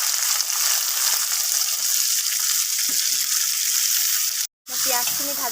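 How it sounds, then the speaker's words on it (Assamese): Chopped onions fry in a pan with a loud, continuous hissing sizzle that cuts out briefly near the end, then resumes with a faint voice in the background. "মই পিঁয়াজখিনি ভাজি ল'ম।"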